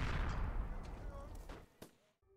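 Rumbling explosions and gunfire from a war raging overhead in a freeware horror video game, a dense roar with a few sharp cracks that fades out near the end.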